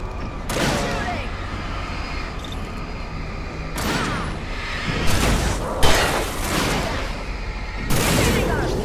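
Gunfire and heavy booms ring out in the horror game Alan Wake Remastered, coming as repeated loud bursts with brief gaps between them, while a player talks excitedly over the action.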